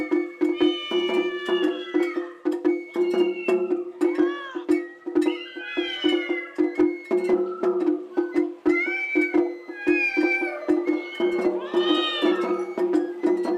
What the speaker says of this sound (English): Stray cats found shelter under the bushes.